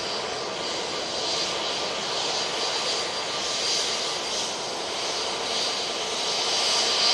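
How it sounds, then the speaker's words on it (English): An EasyJet airliner takes off from Manchester Airport bound for Porto, its jet engines giving a steady, loud, broadband roar that holds evenly and swells slightly toward the end, with no voices. "Let's get this EasyJet. off to Porto"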